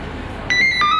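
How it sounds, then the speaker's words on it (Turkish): The conductor of the Doğu Ekspresi blows a whistle at Sivas station at night: two short, shrill, close blasts cutting through a quiet background. "Gecenin sessizliği Sivas'ta görevi devralan şefin düdüğüyle bozuluyor."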